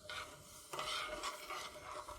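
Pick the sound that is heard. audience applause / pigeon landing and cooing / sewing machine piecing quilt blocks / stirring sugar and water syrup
stirring sugar and water syrup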